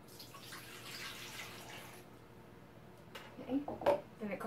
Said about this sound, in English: And now I'm going to add the water on top of that